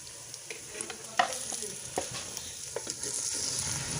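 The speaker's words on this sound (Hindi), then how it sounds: "अब हम इसमें चिकन डालेंगे।" Soft hissing sizzle of chicken frying in a pan after ginger and garlic, with scattered scrapes and taps from stirring, quiet and close.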